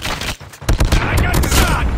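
Rapid bursts of gunfire in a shooter video game crackle loud and dense across the whole clip, with heavier volleys after a brief lull and faint game voice lines underneath.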